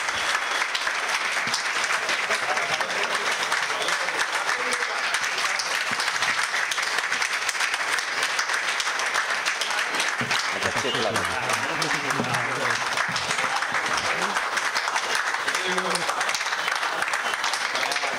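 Loud, continuous applause from an audience at the launch of the Laughing Buddha poetry collection, sustained for many seconds with only slight swells. Voices and cheers rise briefly over the clapping partway through.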